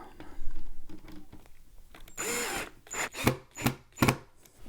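A power drill tightens a screw while a wooden toy kitchen is assembled, short whirring bursts close by with handling knocks between, the final few pulses coming in quick succession.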